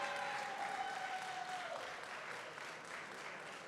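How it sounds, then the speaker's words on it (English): Audience applause at a Juneteenth Emancipation Day celebration, a steady dense wash of clapping for a singer that carries through the whole stretch, with a brief sustained vocal tone fading early on. "Give her another round of applause."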